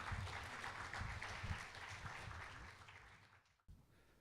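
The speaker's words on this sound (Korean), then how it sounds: "큰 박수 부탁드립니다" Audience applause at a Korean university student supporters' launch ceremony, steady and moderately loud, then thinning and fading out before a sudden sharp break near the end.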